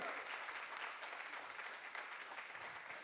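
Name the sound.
audience applause for the managing director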